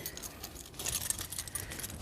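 Keys left under the seat of a '94 Chevy Silverado K1500 jingle faintly in quick, irregular metallic bursts as they are picked up, close by and alone for about two seconds.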